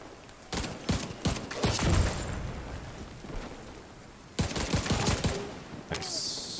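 Gunfire in the video game The Division 2: loud bursts of shots early on, a quieter stretch of background noise, then another cluster of sharp shots near the end.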